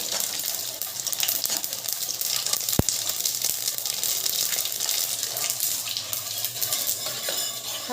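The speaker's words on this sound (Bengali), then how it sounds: "তেলটা গরম হয়ে গেছে, দুটো শুকনো লঙ্কা" Dried chillies and black mustard seeds frying in hot oil, a steady close sizzle and crackle with light popping and one sharp tick partway through.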